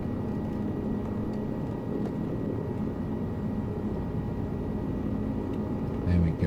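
Helicopter in the Flight Simulator 2024 video game, a steady low droning rotor and engine hum held at an even, moderate level throughout, with a brief bump near the end.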